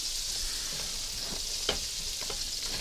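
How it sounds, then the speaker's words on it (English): Steady sizzle of macaroni frying in a pan, a continuous hiss with a few soft scraping stirs, no talking. "It's not just warming it up in a pan, we're frying it."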